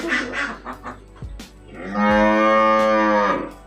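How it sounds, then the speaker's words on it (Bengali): A cow gives one long, loud, drawn-out moo after a few brief, softer sounds. "ওই তো গরু ডাকতেছে"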